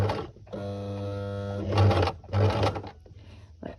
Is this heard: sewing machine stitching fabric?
yes